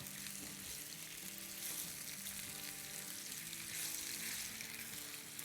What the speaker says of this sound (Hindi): तो अब हम अपनी अरवी को डाल देते हैं पैन में।